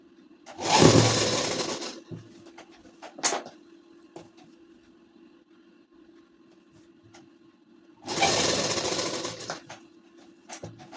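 Two loud, close bursts of a sewing machine stitching a ladies suit, each lasting about a second, set apart by a long quiet stretch with a low steady hum and an occasional click.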